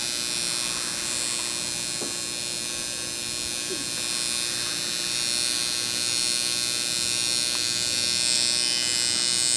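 Nouveau PRO permanent makeup handpiece running at speed 120 while eyeliner is applied, giving a steady, close electric hum and buzz that stays even throughout with no talk.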